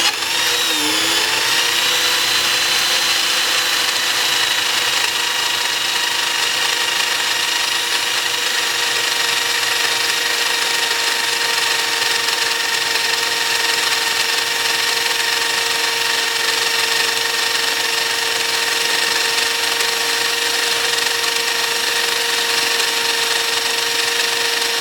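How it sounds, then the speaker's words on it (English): A wood router whines at a constant high pitch alongside a steady vacuum drone, loud and unbroken throughout, with faint grinding as it cuts wood. "I have the router and the vacuum connected up on a foot switch."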